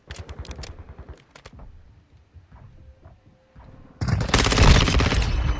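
Gunfire in Call of Duty Modern Warfare II: a quick string of close, sharp shots at the start, scattered quieter pops, then a loud sustained burst of rapid automatic fire at the end.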